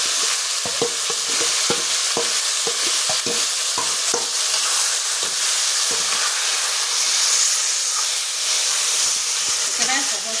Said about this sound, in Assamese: পিঁয়াজখিনি বাদামী ৰং হোৱাতে মই এনেদৰে মাংসখিনি ইয়াতে দি দিলোঁ।